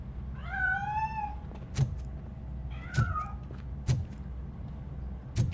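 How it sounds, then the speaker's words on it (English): A cat meows in the RoboCop: Rogue City video game, a few drawn-out rising and falling cries near the start, followed by sharp thuds and clicks over a low ambient game hum. "That cat must be hiding inside. Let me lure it out."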